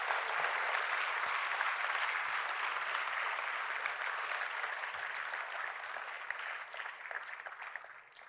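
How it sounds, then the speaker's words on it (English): Warm, steady applause from a convention audience thanking volunteers, dense clapping that holds evenly and then thins slightly toward the end. "Can we please give them a round of applause and just say thank you for that?"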